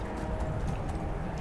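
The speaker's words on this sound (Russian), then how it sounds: "А, лошадочка" A horse's hooves clip-clop at a steady walking rhythm in Skyrim, close and distinct over a low background rumble, with no talking.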